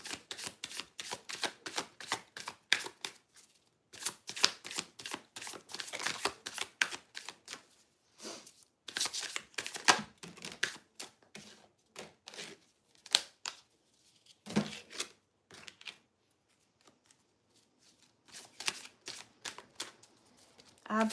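Cards being shuffled and drawn for a love tarot reading: rapid riffling and flicking of paper cards in quick clustered bursts, close and crisp, broken by short pauses and soft slaps as cards are set down.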